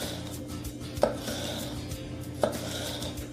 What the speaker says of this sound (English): I'm just going to slice lengthwise